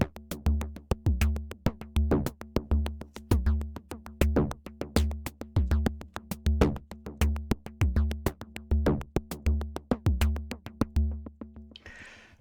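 The Axon 2 plugin synthesizes drum-like hits in a steady, busy sequenced pattern. Punchy low thumps alternate with sharp clicky transients, each decaying quickly, for about eleven seconds before a brief noisy tail.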